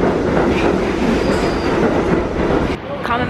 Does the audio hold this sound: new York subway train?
yes